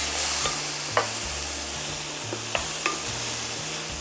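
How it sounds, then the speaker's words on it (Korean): Soybean paste (gangdoenjang) being stir-fried in a pan with splashes of water, giving a steady close sizzle broken by a few sharp spoon scrapes and clinks, with no talking. "볶아주세요."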